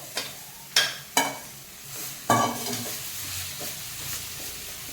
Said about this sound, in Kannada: ಫ್ರೈ ಮಾಡಾದ್ಮೇಲೆ ಏನು ತೊಗೊಂಡಿರ್ತೀನಿ ನಾವು ತರಕಾರಿ ಅದನ್ನೆಲ್ಲ ಹಾಕ್ಕೋಬೇಕು